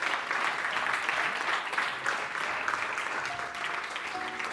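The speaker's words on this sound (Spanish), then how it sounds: "Denle un aplauso a nuestro Dios." A church congregation applauds steadily for several seconds, a dense and even wash of clapping from many hands with a faint voice briefly audible underneath.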